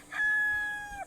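A rooster gives a single quick crow near the listener, a rising call followed by a long held note that bends down at the end, lasting about a second over quiet morning background.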